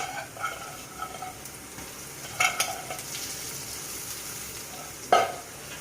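Dried fish (shutki) fries in a pan with turmeric and chili over a low flame, a steady soft sizzle with occasional spoon scrapes and taps, no talking.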